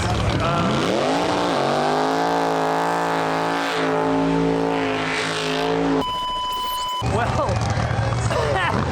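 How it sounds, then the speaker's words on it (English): A race car engine revs hard during a burnout at a racetrack, a loud sustained roar with rising and falling pitch, a steady tone breaking in partway, then the engine roaring again. "we had to take a little pause there because burnout"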